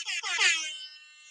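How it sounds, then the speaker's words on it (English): DJ air horn sound effect, a single bright, brassy blast that swells and then fades out with a lingering ringing tail, close and alone. "DJ air horn."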